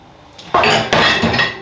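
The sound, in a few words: dishes clinking while washing up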